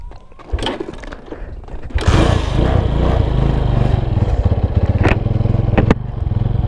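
A 2011 Honda Tiger motorcycle engine idles and revs close by, a steady rumbling beat with a bright, ringing edge. It swells louder after about two seconds, with a few sharp clicks breaking through the drone.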